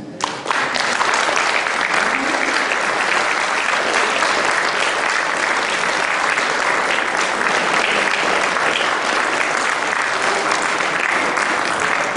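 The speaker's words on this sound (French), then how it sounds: "Ils entrent sous vos applaudissements s'il vous plaît" A conference audience gives loud, sustained applause as speakers enter, a dense wash of clapping that holds steady throughout with faint voices mixed in.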